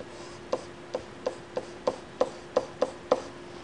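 A pen or marker taps and strokes across a board in a quiet room at an even rhythm, roughly nine distinct light knocks spaced about a third of a second apart while a probability density curve is sketched.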